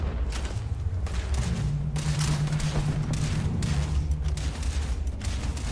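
Steady game gunfire in Starfield, repeated thumping shots and booms in a continuous rhythm during a fight against a robot, at moderate loudness with a low hum beneath.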